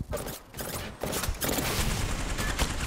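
Rampage LMG fire in Apex Legends, a loud, dense burst of rapid gunshots that starts after a brief opening and continues as sustained automatic fire to the end.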